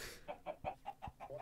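Chickens cluck softly in the block-building video game Minecraft on an ultra-hardcore survival map, with a quick run of about seven short, evenly spaced clucks at low volume, mixed with faint thuds.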